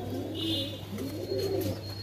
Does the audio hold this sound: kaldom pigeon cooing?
yes